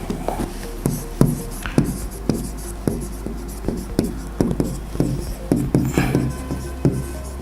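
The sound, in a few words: writing on a Logic interactive display screen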